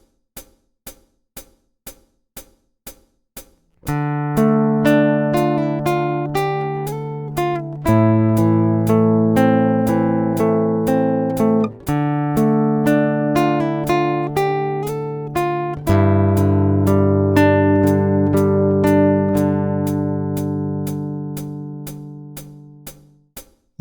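Fingerstyle acoustic guitar plays the melody and open chords of a piece, left-handed, starting after a steady count-in of clicks that keep ticking evenly beneath the sustained, ringing notes at close range.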